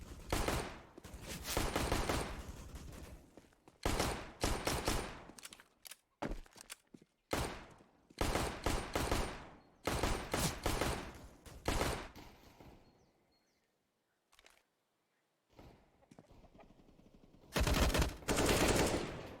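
Rifle fire from a Counter-Strike match on the Inferno map: loud, dense bursts of automatic shots in repeated clusters, with a few short pauses and brief near-silent gaps between exchanges.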